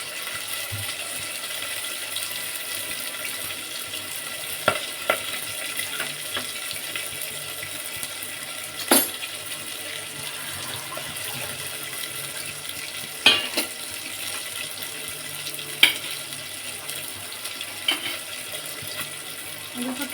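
Hot water is poured into a Bengali fish curry simmering in a pan, giving a soft, steady sizzling hiss with a few sharp clinks and stirring knocks scattered throughout, fairly close, no voices.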